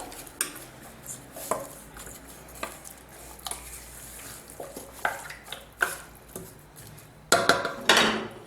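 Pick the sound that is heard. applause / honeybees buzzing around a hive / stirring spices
stirring spices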